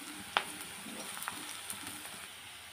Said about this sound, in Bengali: এখন এই যে পেঁয়াজ কুচিটা দিয়ে দিলাম